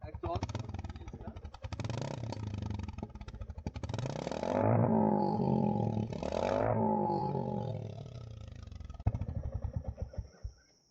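A Goan Classic 350 motorcycle engine roars and revs for several seconds, then cuts off, followed by a string of sharp popping backfires from the exhaust.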